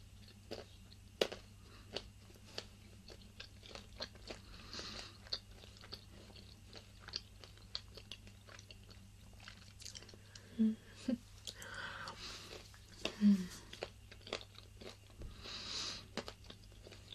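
Soft, close chewing of a crunchy, gooey Italian nut treat, with scattered crisp crunches and wet squishes over a quiet background, no talking.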